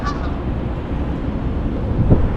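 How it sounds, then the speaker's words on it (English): Canada geese honk over a steady outdoor rumble like wind or traffic, a few calls near the start and a louder one near the end. "I get distracted by these Canadian geese"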